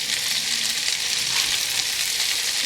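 Zucchini and broccoli sizzle steadily in a large pan as they fry and are stirred, a dense, continuous hiss that stays loud and even throughout, with no voices.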